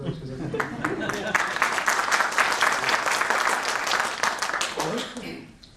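A seminar audience claps in a thick, continuous, fairly loud round of applause that holds for several seconds and then tapers off at the end.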